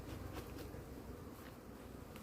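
Honeybees buzz at a hive during a honey harvest as smoke drives them off the frames. The soft, continuous drone sounds faint and fairly distant, with no voices.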